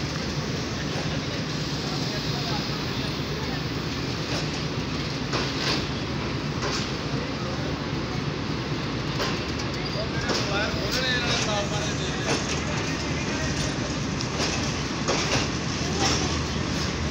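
Karakoram Express passenger train pulling away slowly on departure: a steady rumble with irregular metallic clicks and clacks from the wheels, heard from aboard alongside background talk.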